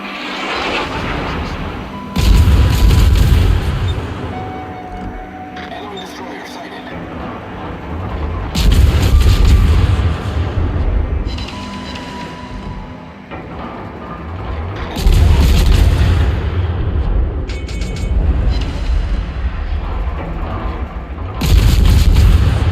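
Heavy booming gunfire from the Elbing, a Tier 10 German destroyer, firing high-explosive shells in a naval video game, with several loud salvos spaced a few seconds apart over a steady rumbling background.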